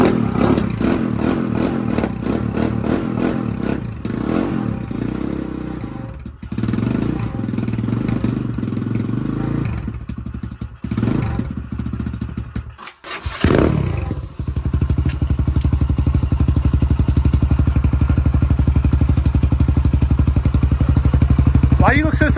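A motorcycle engine, just reassembled after a fuel leak, runs loud and steady with a brief dip partway through before roaring back even louder, while people talk over it.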